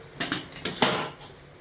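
A lid set down on a cooking pot of vegetable curry on a gas stove, giving several short metallic clanks and scrapes, close and moderately loud, with no voices.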